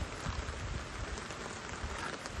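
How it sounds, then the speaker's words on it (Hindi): Heavy rain pours steadily outdoors in a backyard fish-breeding area, a dense, continuous hiss of drops hitting surfaces with no voices. "बहुत बारिश हो रही है"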